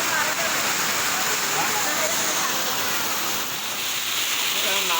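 Heavy rain pours steadily during a village Bonalu festival, a dense, continuous hiss of downpour filling the whole stretch at close range.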